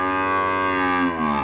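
A mother cow on a cattle farm in Ba Tri lets out one loud, sustained moo nearby that falls in pitch at the end, with no talking.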